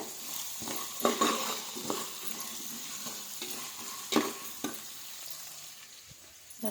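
Peeled boiled eggs dry-fry in a hot pan until golden, with a constant gentle sizzle punctuated by irregular scraping bursts as a spatula stirs and turns them.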